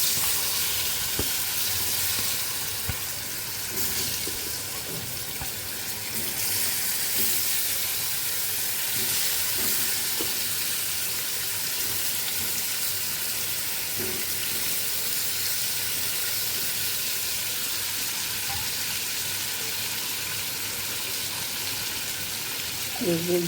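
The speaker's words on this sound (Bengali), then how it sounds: "এখন আমি পনিরটা ভেজে নেব।" Cubed paneer fries in hot oil seasoned with salt and turmeric. A constant close hiss and crackle runs throughout, with occasional clinks and stirring taps, and a voice is faintly present at times.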